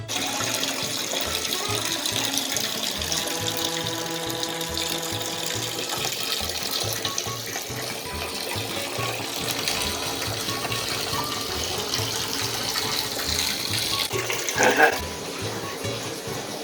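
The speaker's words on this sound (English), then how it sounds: "we just have to find a bunch of dishes and wash them in a tub" Dishes washed by hand in a tub under running tap water, a continuous close splashing and pouring with occasional clinks, steady throughout.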